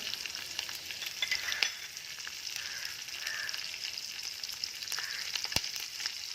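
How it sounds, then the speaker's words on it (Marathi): Green chillies drop into hot oil with popping mustard seeds while making rava upma, a close, bright sizzle with crackles and a few sharp taps from a utensil against the pan. "मोहरी तडतडली. आता मिरची टाकून घेत आहे."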